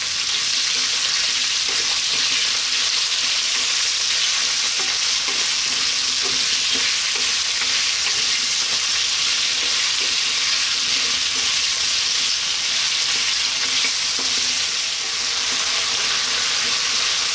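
Biryani ingredients fry on a lively, above-medium heat, a loud and steady hiss filling the whole stretch, with stirring scrapes audible underneath.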